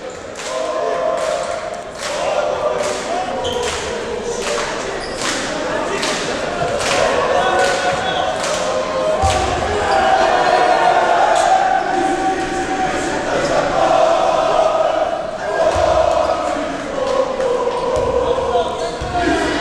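Basketball bounced repeatedly on a hardwood court at an under-16 Galatasaray versus Beşiktaş quarterfinal game before a free throw, steady thuds over crowd noise and an announcer's talk.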